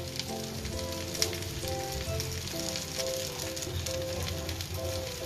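A garlic paratha sizzles in ghee on a pan over a medium flame: a steady, even crackle and hiss carries on without a break, close but soft, and nobody speaks.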